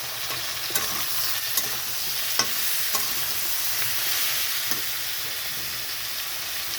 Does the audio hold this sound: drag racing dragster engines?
no